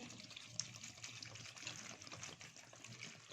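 Clean water is poured over bamboo shoots for pickling, a faint, steady trickle and splash of liquid close by, with no talk.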